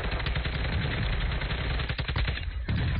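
Video game gunfire with sniper shots among it, a dense, loud stream of rapid cracks and bursts that runs without a break, like close-range automatic fire.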